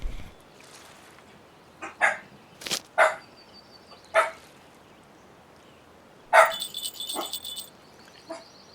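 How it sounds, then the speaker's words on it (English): Dogs bark in sharp, separate bursts, some of them loud and close, with quieter gaps between them and a brief high electronic tone near the end. "And there go my dogs"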